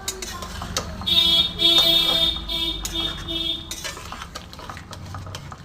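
A utensil scrapes and clinks through shrimp and taro curry in a metal pan, with irregular stirring strokes and a sustained ringing tone from the pan in the middle.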